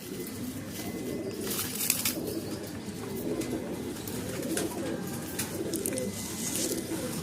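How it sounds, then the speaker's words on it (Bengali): A male pigeon cooing nearby, low soft throaty coos repeating over a steady background with faint rustling and distant high chirps. "এটা হচ্ছে নর পায়রা"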